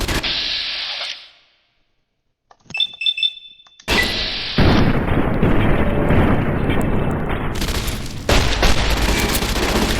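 Gunfire in the video game Fallout: New Vegas, loud and close, with heavy bursts of shots and explosive blasts that fill the whole stretch after a brief silence and a few metallic clinks.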